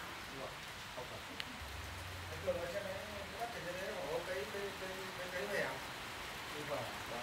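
Heavy rain pours steadily outside, heard from an indoor spot as a constant broadband hiss, with a person talking over it.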